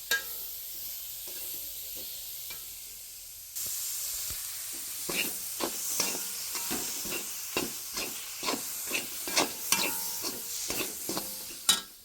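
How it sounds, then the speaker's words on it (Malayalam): Spice powders and tomato in a frying pan are stirred with repeated scraping strokes over a hissing sizzle, quiet at first, then a run of distinct, fairly close scrapes in uneven rhythm. "അപ്പം അതുകൊണ്ട് ജസ്റ്റ് ഒന്ന് ഇളക്കി കൊടുക്കട്ടെ തക്കാളി ഇട്ടിട്ട്."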